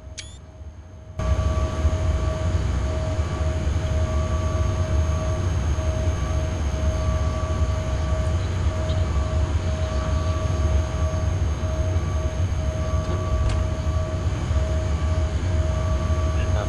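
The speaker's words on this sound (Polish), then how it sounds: "Pociąg." A Traxx locomotive hauls an express passenger train in the SimRail simulator, producing a steady, continuous rumble with faint tonal hums that starts abruptly and holds level throughout.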